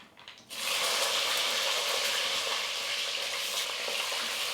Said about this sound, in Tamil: இதில் வந்து கத்திரிக்காய் சேர்த்துக்கிறேன்